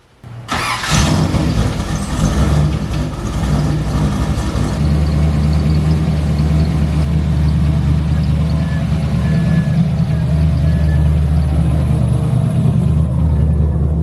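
A Nissan 300ZX with a swapped-in T56 transmission cranks and fires up, then settles into a loud, steady, rumbling idle close by, with no talk.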